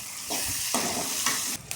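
Tomatoes and vegetables for a Tamil beans poriyal sizzle in a hot pan while a utensil stirs and scrapes them in a few short strokes, close and steady.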